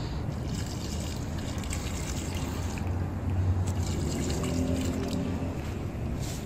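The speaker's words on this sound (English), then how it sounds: "put a little water in it." Water trickles and splashes steadily into fresh concrete in a pressure-meter bowl during an air-content test, a continuous wet pouring sound that swells a little midway.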